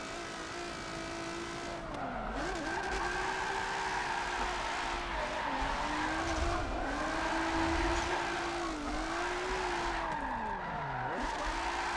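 Car drifting through a bridge section in Forza 7, driven without a handbrake: a steady engine drone that rises and dips with repeated tire squeals and slides, continuous and alone with no talk.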